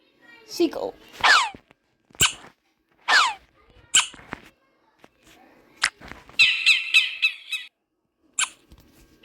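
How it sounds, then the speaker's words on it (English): Seagull calls come in a run of short, sharp squawking cries, loud and close, with brief gaps between them and a fast chattering burst near the end. "seagull,"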